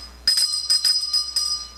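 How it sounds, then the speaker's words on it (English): A bell rings onstage during a high school drama class one-act play, a bright, close metallic ringing of several quick rapid strikes with a sustained tone, heard alone. "We have to answer the bell."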